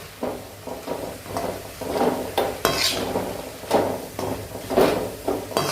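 Vegetable filling for kara samosa with green chillies is stirred in a pan, producing repeated scraping and clinking of a spoon against metal in an uneven rhythm over a light sizzle.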